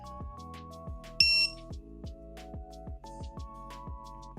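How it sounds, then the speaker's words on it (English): An FPV drone's onboard buzzer sounds two brief, piercing high beeps while it sits on a soldering bench, over steady background music. "There's something going on with this stupid buzzer."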